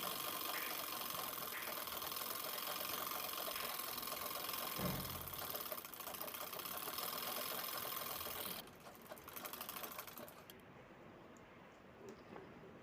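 A sewing machine stitches cloth for a traditional Marathi baby-shower handkerchief bundle, a steady, fairly faint mechanical whir that runs for several seconds before tapering off into lighter clatter.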